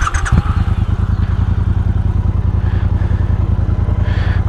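A Triumph Speedmaster motorcycle engine idles close up with a loud, steady throbbing pulse, following a brief clatter as it catches at the start.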